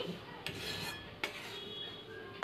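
Wheat flour roasting in a pan on a low flame while being stirred, a soft rasping scrape broken by a few sharp utensil knocks against the pan, close and quiet.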